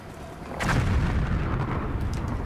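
Artillery bombardment in the video game Call of Duty Black Ops, a continuous loud rumble of distant shelling with dense overlapping booms that swell after the first half second and stay heavy throughout.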